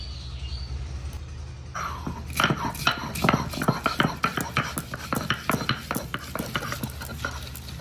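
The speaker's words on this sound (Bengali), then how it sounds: "এখন আমি রসুন বেটে নেব।" Garlic is ground into paste by hand, with a fast, steady run of gritty grinding strokes after a short quiet opening.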